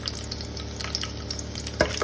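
Onion, ginger and garlic sizzle steadily as they sauté in a hot pan, a continuous close frying hiss with a brief stirring scrape near the end.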